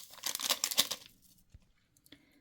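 A small paper packet of vanilla sugar tears open in a kitchen with a quick crinkly rip lasting about a second, followed by faint rustling and near silence.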